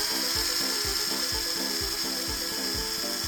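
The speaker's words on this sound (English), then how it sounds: "And when the drill didn't work," A power drill whirs in repeated short bursts while being used to take apart a Take-Along toy train, its rhythmic pulses close and steady with no talk over it.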